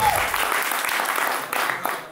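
An audience at a live Italian talk show on social media generations applauds steadily for about two seconds, a dense wash of clapping that fades slightly toward the end, with a brief voice at the start.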